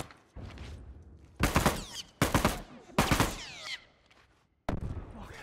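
A turret machine gun in The Last of Us, heard as several loud, close bursts of rapid fire, each about half a second long, separated by short pauses and a final burst near the end.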